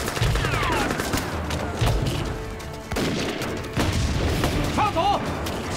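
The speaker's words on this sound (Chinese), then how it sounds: "集中全部火力，给我打！" Gunfire and explosions boom through a battle scene in a Chinese anti-Japanese war drama, with dense bursts of shots and heavy blasts running continuously under shouted voices.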